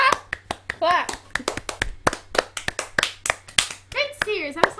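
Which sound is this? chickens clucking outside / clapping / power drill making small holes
clapping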